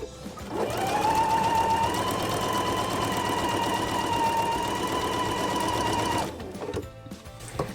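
A sewing machine stitches quilt block pieces for a half rectangle triangle block, running in one steady, continuous whir from about half a second to six seconds, then stopping abruptly, with no voices.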